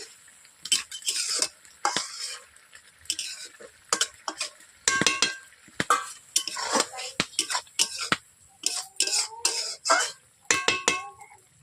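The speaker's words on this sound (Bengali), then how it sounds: "এরপর আমি কড়াই থেকে নামিয়ে নিচ্ছি।" Metal spoon scrapes and clinks against a wok as small-fish curry is scooped out, irregular clattering strokes, close up without speech.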